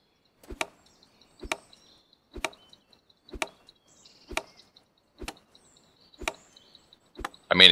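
Repeated axe-like chops at a tree in an indie survival video game, eight sharp woody thwacks at a steady roughly one-second rhythm, close and distinct against near silence.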